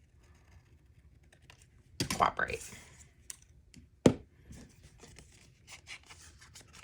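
Scissors snip paper trimmed around an envelope while crafting a junk journal page: a few short, crisp cuts and clicks close by, with a brief spoken word in between.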